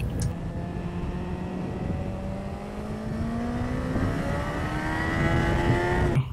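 A car climbing the Col de l'Espigoulier mountain pass re-accelerates out of a bend, its engine note rising smoothly and growing gradually louder over a steady road roar.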